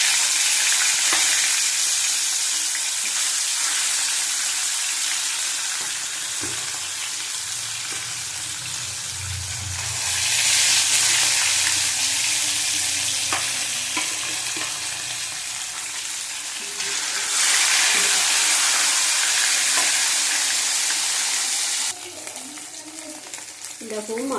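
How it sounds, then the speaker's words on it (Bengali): Katla fish sizzling and frying in a kadai, a steady close crackle that swells louder in two stretches, with occasional stirring and a short bit of faint talk near the end. "কড়াইতে মাছ দিয়ে দিলাম।"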